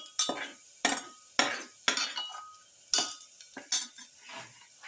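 Quail with pepper is sauteed in a pan, a metal utensil striking and scraping it in a series of sharp, close clinks roughly every half second to second, each followed by brief stirring rustle and light sizzle.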